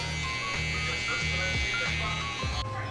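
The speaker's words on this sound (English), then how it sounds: "Grab the shaver and just erase that stubble." An electric shaver erasing beard stubble gives a steady, close buzzing hum that wavers in pitch as it moves across the face.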